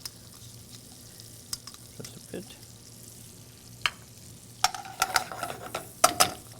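Shallots and fresh garlic sautéing in a pan give a soft, steady sizzle at first, then a burst of close, clattering stirs and utensil scrapes near the end, with no clear talk.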